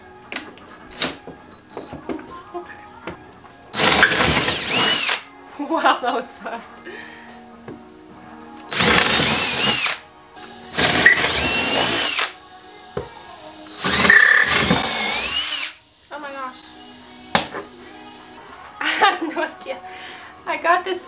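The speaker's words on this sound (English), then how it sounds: "I'm gonna go ahead and get a bigger drill bit so I can fit the jigsaw in it" A power drill with a larger bit bores holes during a van build of wheel well boxes, running in four short, loud bursts of a second or two each, separated by pauses and a brief spoken remark.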